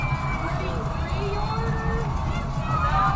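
A crowd at a high school football game in the stands as a field goal try is lined up, a steady broad murmur of many voices heard from a distance with commentary over it.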